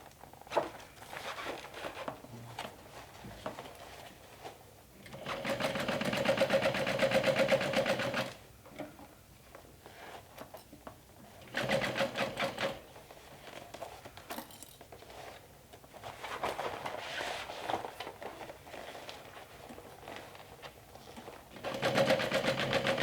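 A sewing machine stitches a half-inch seam on a backpack being turned into a handbag, running in several bursts of rapid, even chatter separated by quieter pauses.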